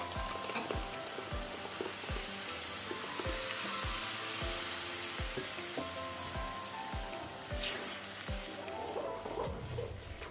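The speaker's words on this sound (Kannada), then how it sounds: "ಇದನ್ನು ಸಹ ನಾವೀಗ ಒಳ್ಳೆ ರೀತಿ ಫ್ರೈ ಮಾಡ್ಕೊಳ್ಬೇಕು" Ground spinach paste frying with tomato masala in a pan, a steady close sizzle with crackling bursts and occasional stirring scrapes throughout, no talking.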